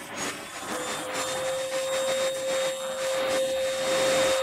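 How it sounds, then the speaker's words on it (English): A vacuum cleaner runs steadily and loudly throughout, with a strong constant motor whine and broad airflow hiss, part of an experiment with a bent pipe. "Turn on the vacuum cleaner."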